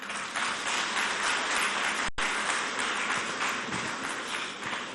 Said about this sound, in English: Please, another round of applause for the Chairman, Governors Forum of Nigeria